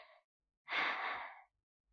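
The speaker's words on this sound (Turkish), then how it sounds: "Derin derin nefes al." A child takes one deep breath, a single soft, breathy exhale lasting under a second, close and quiet, with a brief faint voice before it.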